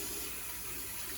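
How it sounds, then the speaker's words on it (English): A tap runs at a sink for handwashing before tending a charcoal chimney at a barbecue, giving a short, steady, fairly quiet rush of water with no speech. "I'm gonna wash my hands"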